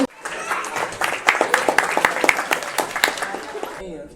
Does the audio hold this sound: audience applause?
yes